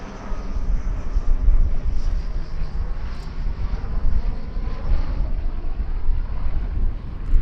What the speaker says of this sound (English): Now a spirited solo display from the Dragon Rapide in wartime Scottish Airways colours.